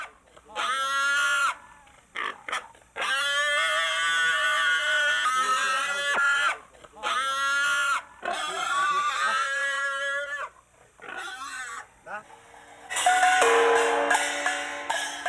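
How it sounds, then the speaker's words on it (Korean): A pig caught by four villagers for a memorial rite squeals and shrieks loudly in repeated long, harsh bursts with brief pauses, ending in a noisier scuffling stretch. "네 명이 달라붙어 겨우 도망간 돼지를 잡아왔다"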